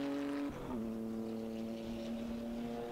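Historic touring race cars lapping the damp Silverstone circuit, a steady loud engine drone with a sustained pitch that shifts down once early on, continuous and close throughout.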